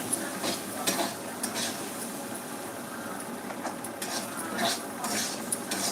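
Dishes, pots and pans being scrubbed and rinsed by hand, with close intermittent clinks and clatters of metal utensils over a steady background of running water, no talking.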